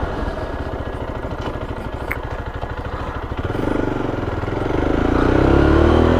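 Zontes ZT310 motorcycle engine riding along in cold weather, a steady close engine drone with rapid pulsing that rises and swells louder toward the end as it accelerates.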